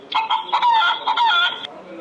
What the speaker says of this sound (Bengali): হেন, মুরগি।